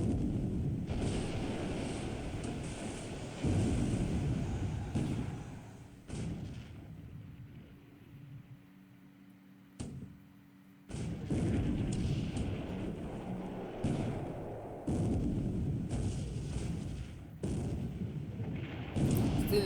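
Naval gunfire in a Pacific: AE wargame battle between destroyers lands as a series of heavy, booming thuds and blasts in repeated bursts, broken by a short quieter lull.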